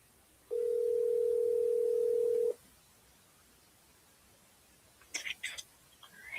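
Ringback tone of an outgoing telephone call: one steady, even tone lasting about two seconds, then quiet line noise with a few faint rustles near the end.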